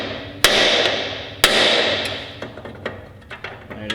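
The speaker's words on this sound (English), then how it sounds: "sometimes you gotta use like a 3-pound sledge" A 3-pound sledgehammer strikes a car part during a Porsche 944 LS swap, two loud sharp metallic blows about a second apart, each ringing out, followed by lighter clinks and taps.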